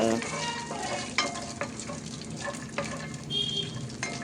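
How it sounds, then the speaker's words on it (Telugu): Peanuts roasting in a hot pan for peanut chutney, with a steady dry sizzle and a few sharp scraping clicks as they are stirred, close and alone with no talking. "ఇప్పుడు దీంట్లో కొంచెం పల్లీలు వేసుకొని వీటిని కొంచెం సేపు రోస్ట్ చేస్తే చాలు"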